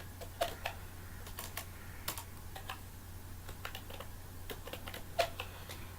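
Typing on a computer keyboard while writing a heading in MS Word, light irregular key clicks, close and fairly quiet over a steady low hum.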